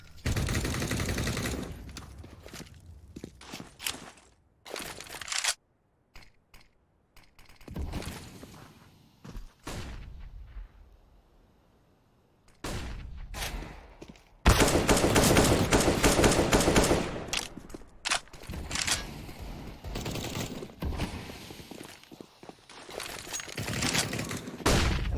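Rapid pistol fire from Deagle and Five-SeveN handguns rings out in a Counter-Strike match on Dust 2, in dense volleys with short quiet gaps and a long loud burst of shooting near the end.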